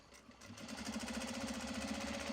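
A sewing machine running steadily, doing rescue stitching on the lining of a Japanese fabric belt bag, a close rhythmic hum that builds quickly and holds.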